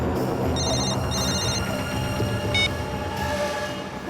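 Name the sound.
telephone ringing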